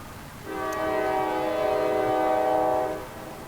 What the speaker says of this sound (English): Yay, I love the train.